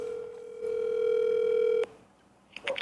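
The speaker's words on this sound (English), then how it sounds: "That's that ringtone." A steady electronic phone ringing tone holds for over a second and cuts off abruptly, followed by a short quiet gap and a faint clatter.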